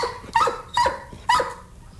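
A dog barks on command three times in a studio setting, each bark short and sharp with pauses between, fairly close and alone without talk.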